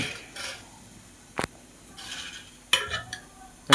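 A spoon stirs a thick sago mixture in a pot, giving soft scraping swishes and a few sharp clinks against the metal, spaced irregularly over a few seconds in a quiet kitchen.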